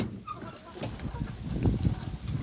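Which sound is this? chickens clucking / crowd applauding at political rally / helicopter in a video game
chickens clucking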